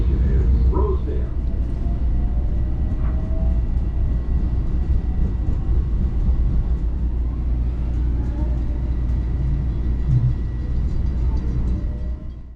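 Long Island Rail Road commuter train rumbling steadily along the track, a loud, continuous low roar heard from inside with faint clatter and occasional squeals, without talking.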